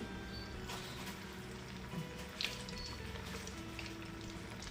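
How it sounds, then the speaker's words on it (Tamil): Tapioca (maravalli kilangu) vadai frying in hot oil over a medium flame, giving a steady, soft sizzling hiss with a couple of faint pops, and no voices. "இப்போ ஒன்று ஒன்றா எண்ணெயில் போட்டு பொரிச்சிக்க வேண்டியது தான்"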